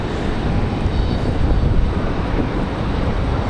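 A JetBlue Airbus A220 jet airliner prepares to depart at Raleigh-Durham International Airport on a windy day, giving off a steady, loud broadband engine roar that holds even throughout with no voices.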